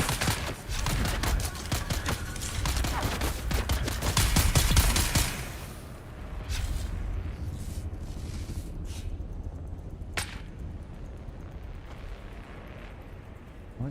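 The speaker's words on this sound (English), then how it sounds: "I just heard a sniper then, didn't I?" A battle in the video game Dune: Awakening, with a burst of rapid gunfire and rumbling blasts in the first few seconds, then scattered distant shots including one sharp sniper rifle crack.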